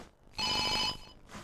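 A Siemens SL45 mobile phone rings with a bright electronic tone, one loud, clear burst of about half a second, alone and close.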